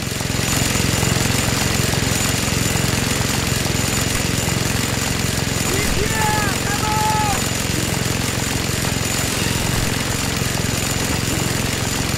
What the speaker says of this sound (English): Scorpio, you better take care of that helicopter!